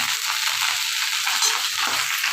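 Rice and eggs frying together in a pan give off a steady, close sizzle with a dense crackling hiss, faint stirring scrapes underneath, and no one talking.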